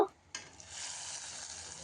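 After a brief clink, a bright sizzle rises abruptly and holds steady, the crackling hiss of crushed black pepper and turmeric frying in hot ghee close by.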